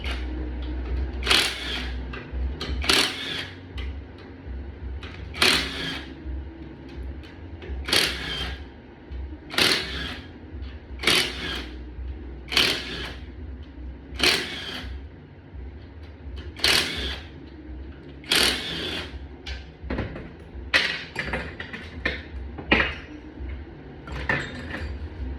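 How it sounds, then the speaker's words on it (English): A T47 Torx tool works a pump bolt on the water-damaged transmission of a 2015 BMW X5. Repeated sharp metallic clicks and ratcheting bursts come up close, about a dozen spaced strokes over a low background hum. "I am using a T47 to pull the pump bolt."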